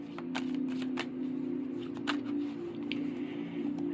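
Tarot cards are shuffled with quick, crisp riffling clicks over a steady low background hum, close up and fairly quiet.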